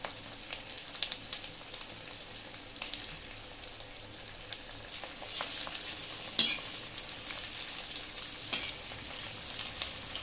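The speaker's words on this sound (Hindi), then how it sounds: "आप इस तरह इन्हों फ्राई कर लेंगे तेल दे" Green chillies sizzle and fry in mustard oil for a pickle, a steady close crackle with scattered pops and occasional stirring, no talk.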